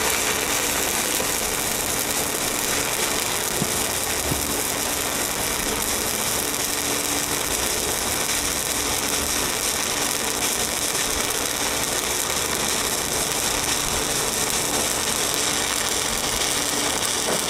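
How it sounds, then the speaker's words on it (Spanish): Vertical stick welding with a 7018 rod, a steady dense crackle and hiss of the arc going on without a break, even and close throughout with no talking. "Aquí vamos soldando, vamos parando en las orillas, un segundo en cada lado"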